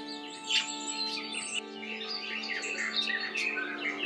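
Several birds sing and chirp steadily in a woodland, a busy overlapping chorus of tweets and trills over a low steady hum.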